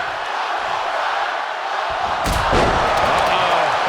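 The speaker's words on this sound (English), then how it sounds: "Booker off the ropes. Scissors kick." A heavy impact from Booker T's scissors kick in the WWE 2K24 wrestling video game, one loud thud midway through, set against constant arena crowd noise while a commentator talks.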